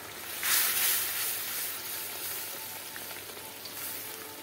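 A steady soft sizzle and hiss comes from a frying potato curry made without onion or garlic as ground spices are mixed in, with a brief louder burst near the start, then an even continuous fry.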